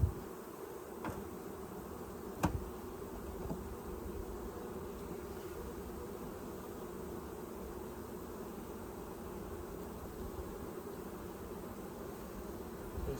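A steady, dense drone of many Saskatraz honeybees buzzing close by around their hive, continuous and even, with a couple of faint clicks.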